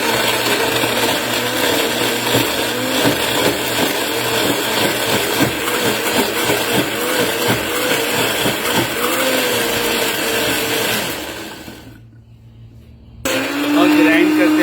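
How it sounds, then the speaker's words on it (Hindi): A mixer-grinder jug whirs steadily, grinding red chillies, garlic and salt into a chutney. The loud motor drone runs continuously, stops briefly and then starts again, with a voice talking over it. "अगर ये अच्छी तरह ग्राइंड नहीं हो रहा है तो आप इस जग को थोड़ा सा टेढ़ा कीजिए"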